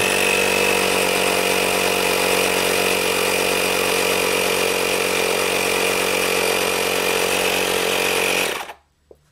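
Compressed air pushes the slave cylinder piston out of a Lotus Elan hydraulic part, giving a loud, steady, continuous hiss-roar at about 5 psi that holds for several seconds and then cuts off abruptly.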